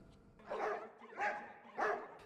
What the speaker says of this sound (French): Des chiens partout.